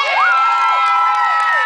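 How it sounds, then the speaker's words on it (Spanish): A crowd at a contest in a bathing resort cheers and whoops loudly and continuously, with children's high shouts rising over the noise; no clear clapping stands out. "Y fuerte el aplauso para Mimi."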